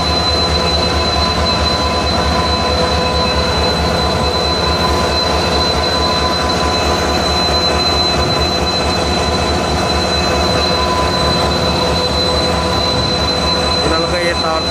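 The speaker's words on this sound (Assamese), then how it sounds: "এইখন ট্ৰেইনৰে পুৰা চাউণ্ড আহি আছে।" A train passes at Rangia Junction, loud and near, its wagons rumbling continuously with persistent wheel squeal and faint rhythmic clatter over the rails.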